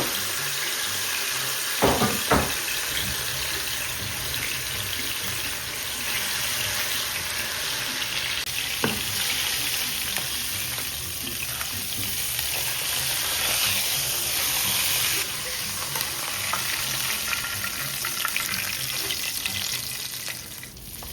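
Onions fry in plenty of oil for Hyderabadi-style mandi biryani, giving a continuous dense sizzle that holds steady throughout, with a few sharp clinks early on and no talking.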